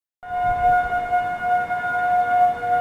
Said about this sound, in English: Sarpy County is testing their sirens year-round now